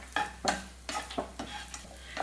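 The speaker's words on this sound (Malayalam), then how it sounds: "നമുക്ക് ഇത് ഇതുപോലെ ഒന്ന് മിക്സ് ചെയ്ത് കൊടുക്കാം." Peanut rice mixture stirred in a pan, with a few close, distinct scraping strokes over a light sizzle and no talking.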